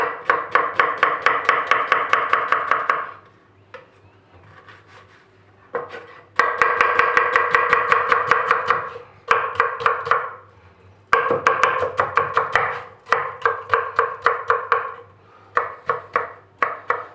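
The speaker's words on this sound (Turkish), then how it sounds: "Şimdi soğanlarımızı doğruyoruz." Knife chopping onions on a cutting board for homemade tacos: close, fast runs of sharp, even taps in several bursts with short pauses between them, no voices.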